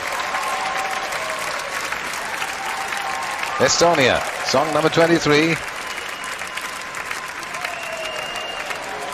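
Eurovision Song Contest 1999 audience applauds in a large arena, a steady wash of clapping and cheering under an announcer's voice, with a brief surge in the middle.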